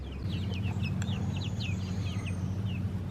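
Several hens cluck and chirp in short scattered calls over a steady low rumble, close by and fairly loud.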